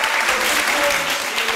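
A studio audience on an Italian TV show claps warmly for an arriving guest. The applause is dense and steady throughout the short moment, with no single voice standing out.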